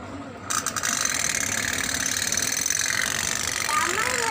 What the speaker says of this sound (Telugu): ఇప్పుడు ఇంజిన్ స్టార్ట్ అయ్యి గుయ్యి అయింది